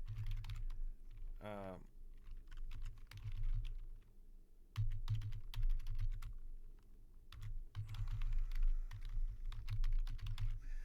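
A computer keyboard clatters in quick bursts of keystrokes as a name and email address are typed, with brief pauses and a short rising beep near the start; no one speaks.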